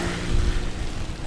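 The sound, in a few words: heavy rain during a bike commute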